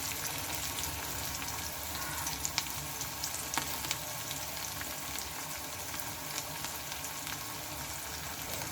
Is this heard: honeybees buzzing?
no